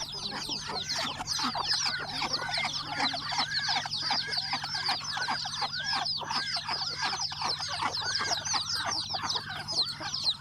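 Chickens and a rooster cluck busily at a rural farm in the morning, a dense, continuous chorus of close, overlapping calls with a low steady hum beneath.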